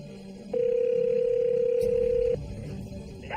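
A telephone line gives one long, steady, loud electronic ring-back tone as a 911 operator calls back, cutting off abruptly, with faint background noise before and after.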